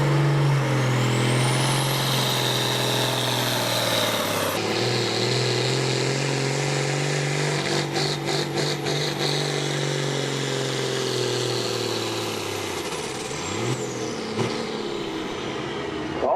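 A powerful Case pulling tractor engine roars steadily at close range during a tractor pull, its pitch climbing then holding under a heavy, continuous load before easing off near the end.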